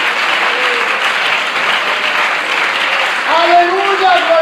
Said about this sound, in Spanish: merece otro aplauso